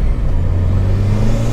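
Turbocharged Toyota Corolla EE90 with a 3SGTE engine, boosted to 8 psi, spinning its wheels under hard acceleration; a loud, steady engine drone with a rising tone fills the whole stretch without any talking.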